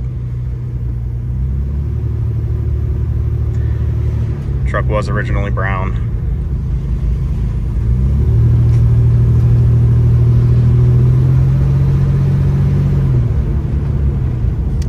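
A 1986 Ford Ranger pickup engine idles with a steady low rumble, growing louder and fuller partway through as it revs slightly, while someone talks briefly over it.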